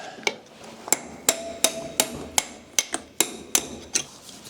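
Repeated sharp metallic hammer blows on a Yamaha YZ125 two-stroke engine ring out at an uneven, steady pace, about a dozen strikes, close and clear with brief ringing after each.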